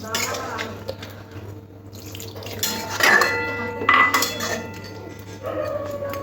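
Clattering metal of a pot and its lid being handled in a home kitchen where ridge gourd is cooking, with a few sharp clinks and scrapes over a steady low hum, a dog barking faintly and some background voice.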